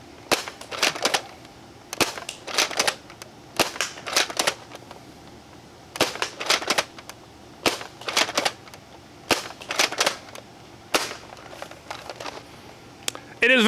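A foam dart blaster firing Accu-Nub darts pops sharply in quick clusters of two to four shots, repeated with pauses over about fourteen seconds, each burst loud and close.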